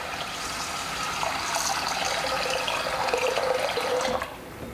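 Water running into a cooking pot for rice in a home kitchen, a steady splashing gush whose pitch rises slightly as the pot fills before the flow stops near the end.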